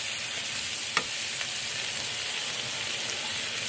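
Shrimp frying in a pan, a soft, steady sizzle heard up close with one brief sharp clink near the start.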